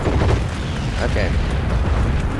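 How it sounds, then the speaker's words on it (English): Gunfire and heavy booms in the video game Heroes and Generals form a loud, dense, continuous barrage of shots and explosions with no distinct gaps. "Getting shot at."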